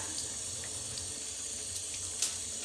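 Steady running water from a tap rinsing an orchid pot, a continuous close hiss and splash with faint drips and bubbling, no voices.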